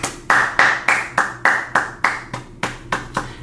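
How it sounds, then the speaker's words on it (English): About a dozen sharp, evenly spaced hand claps ring out close and loud in a steady rhythm, with no talking over them. "Let's clap it up."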